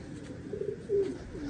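A pigeon coos in low, rounded bursts, close and fairly loud over a soft background murmur.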